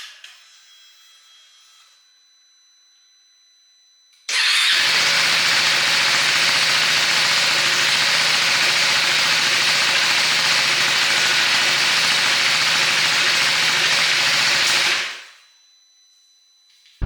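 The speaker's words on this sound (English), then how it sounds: "So this is the first ride with the DECAT pipe from SRC and the FuelX Pro Plus unit." A KTM 390 Adventure R motorcycle with an SRC decat pipe and a FuelX Pro Plus unit runs with a loud, steady engine drone for about ten seconds and then fades away, with quiet stretches before and after.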